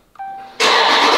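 A tuned Dodge Charger Scat Pack is started: a brief electronic chime, then the engine catches abruptly and settles into a loud, full idle close by.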